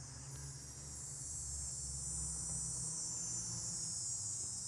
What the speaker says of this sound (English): those things are called cicadas